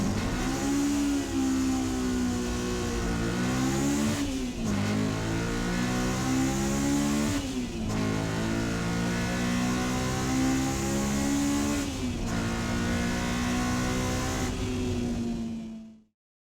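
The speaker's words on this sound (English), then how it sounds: "my absolute favorite thing about the Honda S2000 is the motor" A Honda S2000 sports car engine revving hard through several gears, each climb in pitch cut by a quick shift, loud and close before the sound cuts off.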